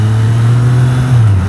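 A 650cc motorcycle engine revs hard in a loud, sustained low drone that holds steady, close by and with no other sound.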